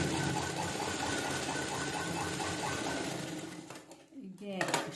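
A sewing machine stitches a round-type blouse lining in a continuous fast whir that runs steadily, then cuts out near the end as handling noises follow.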